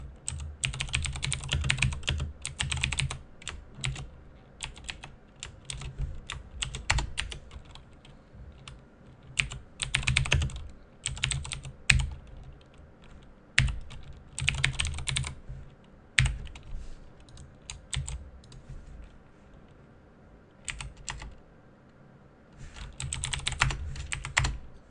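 Python code is typed on a computer keyboard in bursts of rapid keystrokes separated by short pauses, close and moderately loud, with no speech.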